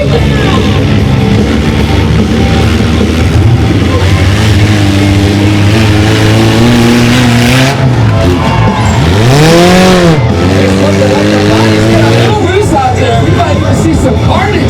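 Mini monster truck Stinger Unleashed at a Renegade Monster Trucks show in Gaithersburg, Maryland: a loud, sustained engine drone swells and revs with pitch sweeps, under an announcer's amplified commentary.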